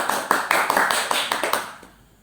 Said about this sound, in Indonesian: Tepuk tangan untuk kelompok 1, anak-anak.